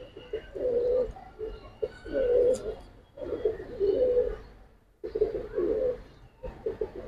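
Silver and bagha pigeons in a loft coo in repeated low, throaty phrases, close and fairly loud, with brief pauses between bursts and faint speech in the background.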